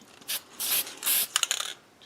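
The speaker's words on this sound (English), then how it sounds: "So I'll just go ahead and spray this" A spray can puffs finish onto a turned madrone branch in three short hissing bursts, then rattles and clicks briefly, close and fairly quiet.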